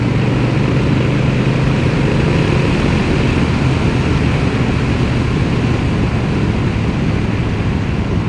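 A 2025 Honda Rebel 1100 DCT motorcycle engine lugs steadily in 5th gear, a continuous low rumble blended with constant wind rush while riding, with no pauses or talk.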